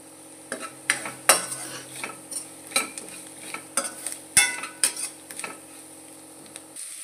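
A spoon stirs chili powder, turmeric, salt and sambar powder through tomato paste in a pan, about a dozen sharp scrapes and clinks in an irregular rhythm over a faint low sizzle, close and without speech.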